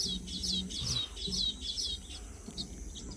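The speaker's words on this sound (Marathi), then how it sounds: "दिवस मावळतीला जात असताना सुद्धा आपलं घर विनण्याच्या नादात या चिमण्या आहेत" Sparrows chirp at dusk near their nests, a quick run of short bright tweets repeating close by over a soft background hum, with no talking.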